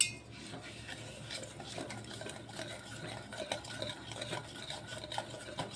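A spoon stirs thick semolina and yogurt idli batter in a bowl. The stirring is steady and close, with soft scraping and occasional light clinks of metal against the bowl, and no voices.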